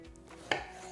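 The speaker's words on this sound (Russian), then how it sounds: "нарезаем сначала на полоски, а потом на кубики" A single sharp knife chop through eggplant on a cutting board, cutting it into strips, one brief crisp knock in a quiet kitchen with no talk.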